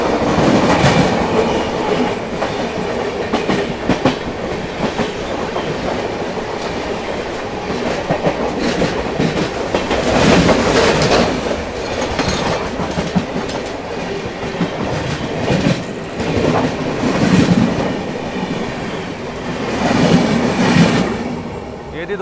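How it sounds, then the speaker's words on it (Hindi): A Delhi–Kamakhya Brahmaputra Mail hauled by a WAP-5 electric locomotive passes close by with a loud, continuous rumble and rhythmic wheel clatter that swells several times as the coaches roll past. "Delhi Kamakhya Brahmaputra mail web 5 locomotive के साथ आती हुई"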